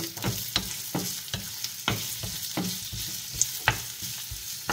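Onions sauté in a hot pan with a steady sizzle, punctuated by regular close knocks and scrapes of a spatula stirring them.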